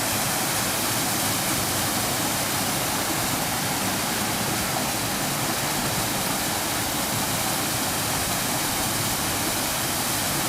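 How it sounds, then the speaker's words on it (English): Floodwater rushes through the Forestvale culvert in Burlington, past a new culvert guard, making a loud, steady, close roar of churning water that holds constant throughout, with no voices. "we're looking at the new culvert guard and the approach to the Forestvale culvert."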